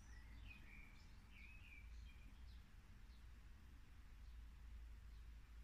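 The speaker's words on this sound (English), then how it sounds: "Maybe you can hear the little birds outside my window chirping." Faint, distant small birds chirping outside a window in short bursts of high tweets, alone over a steady low background hum.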